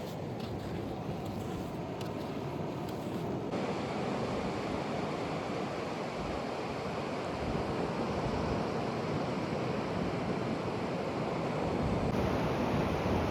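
Ocean waves wash steadily onto a beach shore under a constant wind, forming a dense, even roar of surf with no distinct breaks and no voices.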